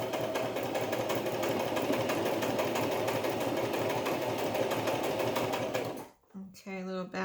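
Sewing machine stitching a notebook cover, a steady close mechanical whirr that stops abruptly near the end, followed by a few brief sounds.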